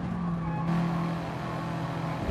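A Subaru WRX engine drones steadily on the Brands Hatch Grand Prix circuit in Gran Turismo Sport, a continuous near, even hum with a faint tire hiss throughout.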